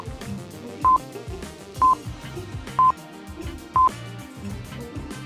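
Four short telephone keypad tones beep at an even one-second pace while someone dials a bank, with soft background music continuing underneath.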